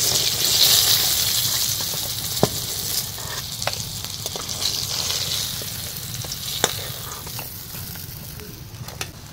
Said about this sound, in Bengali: বাকি মাছগুলো সেমভাবে ভেজে নেব।